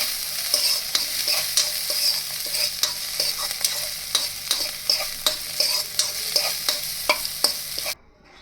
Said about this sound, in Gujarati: મેથીને આપણે ઘીમાં થોડીક સાંતળી અને પછી આપણે જે આપણો લોટ છે તેમાં એડ કરી દઈશું